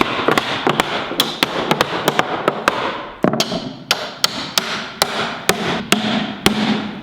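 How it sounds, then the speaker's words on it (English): A hammer strikes the metal hoop of a whiskey barrel in quick, irregular sharp blows, more than twenty loud close ringing knocks over a few seconds with a low resonant body behind them. "even when you're hitting the top of the hoop, if I don't hit it correctly, I bend the hoop"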